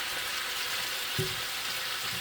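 Onions and potatoes sizzle steadily in a hot pan, a constant close frying hiss with one soft knock partway through.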